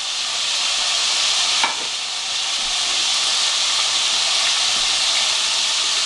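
Meatballs for a Moroccan tagine brown in a hot pan with a steady, close sizzle and hiss, broken by a brief clink near the start.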